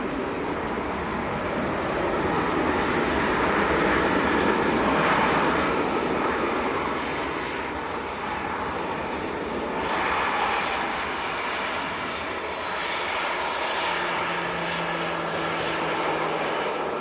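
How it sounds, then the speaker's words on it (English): A Ryanair airliner from Girona lands at Leeds Bradford Airport, a broad, steady jet roar heard from some distance that swells and eases over several seconds, with no talk. "this is Ryanair from Girona in northern Spain. It's got that down nice and early."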